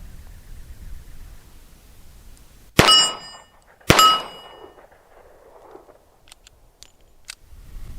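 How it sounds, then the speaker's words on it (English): Two sharp shots from a .38 Special snub-nosed revolver fired double action, each followed by a ringing clang of the steel plate at 15 yards, about a second apart, then quiet outdoor background. "I'm going to see if I can hit it a couple times shooting double action"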